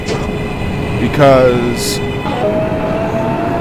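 NYC subway train on the BMT 14th Street (L) line to Rockaway Parkway in the OpenBVE simulator, its rising motor whine and rumble climbing in pitch as it accelerates under steady talk.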